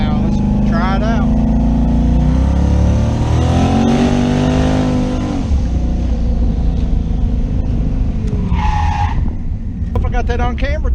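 A car with a freshly repaired exhaust pipe, one pipe still striking the driver's-side fender, revs loudly and pulls away, its engine note rising and falling close by. Voices talk over the engine and a tire squeal appears near the end.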